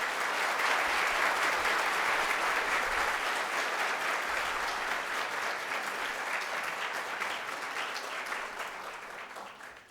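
A lecture audience breaks into sustained applause to welcome a speaker, dense clapping from many hands that holds steady for several seconds and then gradually tapers off.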